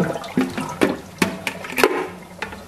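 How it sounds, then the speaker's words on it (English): Lettuce rinsed under running water in a salad spinner at a kitchen sink, with repeated splashing gushes coming in uneven bursts, close and loud, with no talk. "I'm just showing you that I am just washing my lettuce"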